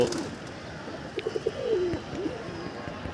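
Pigeons in a loft give soft, low coos, several short bursts near and moderately loud over a faint background hum.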